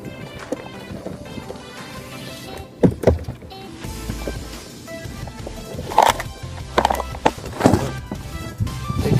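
A Walker Bay dinghy is rowed on open water, with oars knocking and splashing in an uneven rhythm over steady wind noise, some strokes landing as sharp close thumps.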